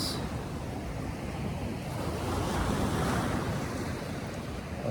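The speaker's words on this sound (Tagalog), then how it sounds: "Natapat sila dito sa Pacific Ocean. Naman napakaingay na ano." Steady Pacific Ocean surf at Casiguran, Aurora, breaking continuously and loudly close by, a constant wash of wave noise mixed with wind buffeting the microphone, with no voices.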